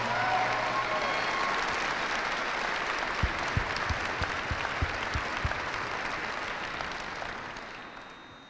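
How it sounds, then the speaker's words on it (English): Audience applause at a military commanders call fills a large room with sustained, broad clapping that gradually thins toward the end, a few sharp close claps and thumps standing out in the middle. "Let's give them a round of applause for entertaining us."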